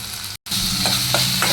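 Ground spices such as turmeric, cumin powder, coriander powder, red chilli powder and garam masala sizzle in hot oil in a pan for paneer bhurji, with a steady frying hiss, a brief dropout and a few soft scraping strokes.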